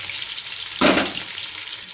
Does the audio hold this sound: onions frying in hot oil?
yes